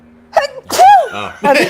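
A single sharp sneeze from a person amid casual conversation, preceded by a short exclamation and followed by further talk, loud and close.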